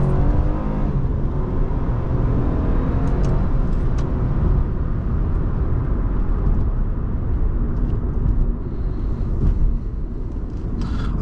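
A 2007 Honda Accord Coupe EX-L V6 accelerates with a steady, full engine roar heard from inside the cabin, holding a broad sustained drone over road noise throughout.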